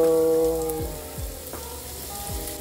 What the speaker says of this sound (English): Onions are getting nicely cooked inside the pan.